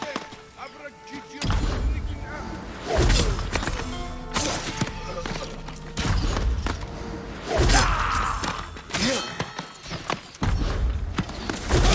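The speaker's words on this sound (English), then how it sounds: "Sounds kind of like a horse." Horse hooves clip-clop in Ghost of Tsushima, a video game: loud bursts of repeated hoofbeats come and go over about twelve seconds, mixed with thuds and other game sounds.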